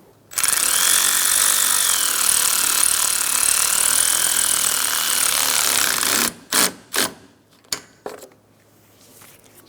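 A power tool runs steadily for about six seconds, driving a 10mm bolt on a 2007-2012 Nissan Altima AC condenser, loud and close, then stops and gives way to a few sharp knocks and clicks.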